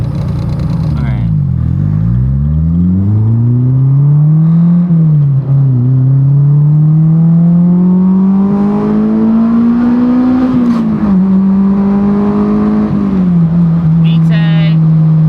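Honda S2000 AP1 engine revving loudly through the gears from the driver's seat, pitch sweeping up sharply into the high-rev VTEC range, dropping at each shift and climbing again, with a voice speaking over the engine.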